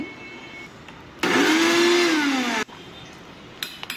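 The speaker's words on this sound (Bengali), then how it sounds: "তো এটা আমি ব্লেন্ড করে নিচ্ছি।" An electric blender whirs loudly for about a second and a half, grinding ginger and garlic with a little water, then cuts off abruptly, leaving quiet room sound and a few small clicks.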